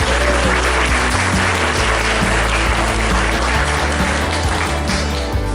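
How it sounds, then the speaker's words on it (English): Guests at a school gala applauding the organizer and staff, a brief wash of clapping over a loud, heavy low-end background with bursts of music-like thumps, steady for several seconds. "Just a quick round of applause for Penny and all the staff."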